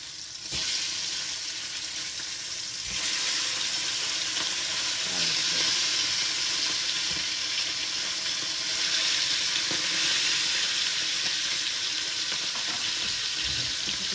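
Two fish frying in hot oil in a pan, with a steady, loud sizzle that runs without a break and swells slightly after a few seconds, and a few soft clinks and scrapes underneath.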